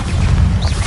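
Bombarda spell explosion in the Hogwarts Legacy video game: a loud, close, deep booming blast that rolls on for just under a second.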